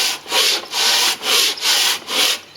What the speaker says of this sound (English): Just got a piece of sandpaper in here